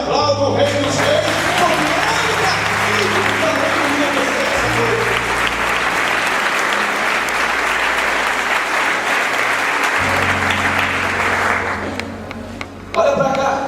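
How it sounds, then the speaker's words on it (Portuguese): A church congregation breaks into loud applause as sustained organ or keyboard chords play beneath it. The clapping rolls on steadily and then fades near the end as the music shifts. "Quem está entendendo, levanta as duas mãos e aplauda o Rei dos Reis."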